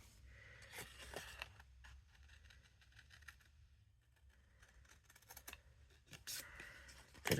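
Scissors snipping through paper during a die-cut craft session, a series of close, crisp cutting strokes in irregular bursts with short pauses between them, fairly quiet overall.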